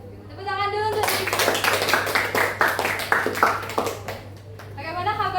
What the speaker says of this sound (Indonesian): Tepuk tangan dulu untuk diri.